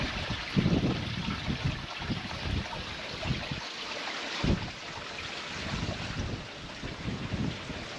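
Running water trickles and rushes through a rocky cleft in the Yorkshire Dales, a steady broadband wash mixed with gusty wind buffeting the microphone, with no voices.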